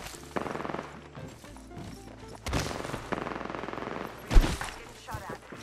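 Gunfire in the battle royale game Apex Legends: rapid bursts of shots and a sharp single shot near the end, moderately loud against background game noise.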